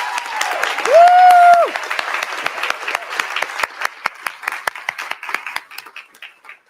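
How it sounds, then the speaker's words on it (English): A round of applause for healthcare students at a ribbon-cutting ceremony for a healthcare center, steady clapping from an audience with a brief tonal sound near the start, then thinning into scattered claps. "So let's give them a round of applause right now."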